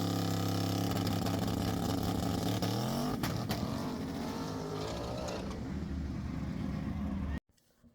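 A Camaro drag car making a pass at a small-tire race, engine roaring loudly at high revs and rising in pitch through a gear change, then easing off before cutting out abruptly near the end.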